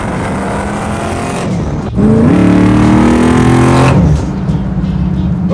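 A 700 hp 1962 Chevy Bel Air Bubble Top restomod accelerates on the road, its engine roaring up through the gears with a loud, close surge midway before settling back.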